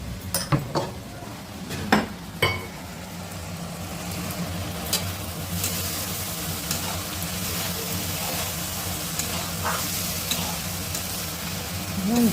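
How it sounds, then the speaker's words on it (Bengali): Ridge gourd and potato fry in a pan with a soft, continuous sizzle while being stirred. A few sharp utensil clinks against the pan stand out early on. "ঝিঙ্গা আলু নাড়াচাড়া করে ভালো করে ভাজা হয়ে আসছে।"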